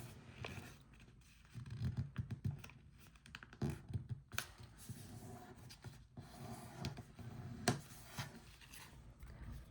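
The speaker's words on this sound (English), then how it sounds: "And now fold the bottom edge up here." Paper being folded for an origami heart place card: faint, close rustling and creasing with soft taps and scrapes in irregular bursts, quiet throughout.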